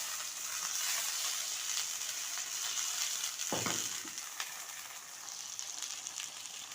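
Sausage sizzles steadily in a frying pan while it is turned, producing a close, continuous hiss with one brief clattering scrape partway through and no talk.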